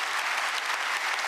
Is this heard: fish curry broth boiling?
no